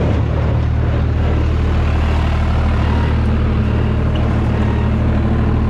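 A SAME Frutteto tractor engine runs close by while baling alfalfa with an Ürmaksan S690 baler, a constant low rumble and throbbing drone, steady throughout without pauses.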